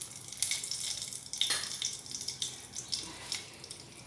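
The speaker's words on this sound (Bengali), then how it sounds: "এবারে ওই তেলে দিয়ে দেবো একটা শুকনো লঙ্কা" A dry red chilli, broken in two, hits hot oil for tempering and sets off a brisk crackling sizzle with sharp spitting pops, close and moderately loud with no voices.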